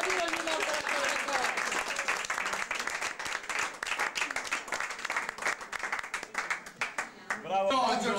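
Lively clapping from a group at a primary school class reunion in Milan, close and sustained, fading into scattered claps and a few voices near the end.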